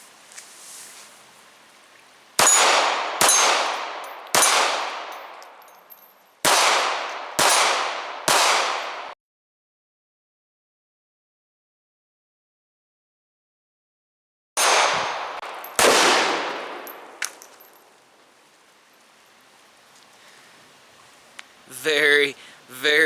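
Sig P238 .380 pistol fired outdoors, sharp reports with ringing decay, five shots in an uneven string, then a long silence and two more, loud and close, with faint rustling and a brief clatter at the end.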